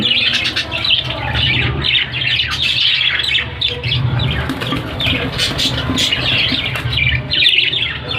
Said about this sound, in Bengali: শুধু বদ্রি পাখি আছে বন্ধুরা এখন অন্য কোনো পাখি নেই